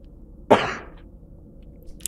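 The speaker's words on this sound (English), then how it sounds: "first cough of the flu" A single sharp cough from someone coming down with the flu, close and abrupt, followed by quiet room tone and a faint click at the end.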